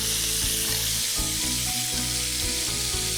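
Short ribs sear in a hot pan with a loud, constant sizzle and spatter, crackling close up with no talk over it.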